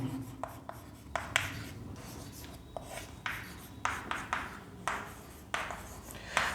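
Quick, scratchy strokes of writing on a board during a class 12 chemistry lecture, coming in short irregular bursts with brief pauses, close and fairly quiet with no talking.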